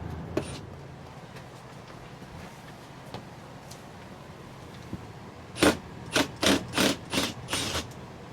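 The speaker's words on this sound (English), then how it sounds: "remove what appear to be 3 Phillips screws" Phillips screws are backed out of a Norcold 1200 RV 12-volt DC refrigerator with a Phillips bit on a 5/16 driver: a quiet stretch, then about six short rasping bursts in quick, even succession, close and fairly loud.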